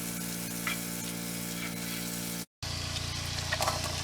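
A tablespoon of butter sizzling in a hot pan, a steady close frying hiss with a brief cut partway through and faint stirring clatter afterward, no voices.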